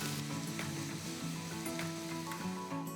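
Ginger garlic paste sizzles steadily in a pan of browned onions over a low flame, a continuous close crackling hiss with faint scraping stirs, no voices.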